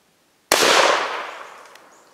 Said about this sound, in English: This is the number four buck, home defense round. Here we go, quick shot.